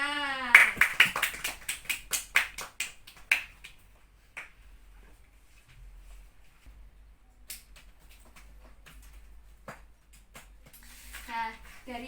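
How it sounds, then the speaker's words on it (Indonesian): A classroom bursts into quick rhythmic clapping, a short loud round of sharp hand claps that fades, followed by sparse taps and faint voices. "tepuk tangan"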